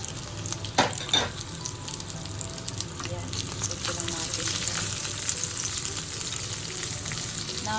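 Onions sautéing in a pan for nilagang baboy, a continuous near sizzle and crackle with a couple of sharp utensil knocks early on, the frying growing slightly louder toward the end.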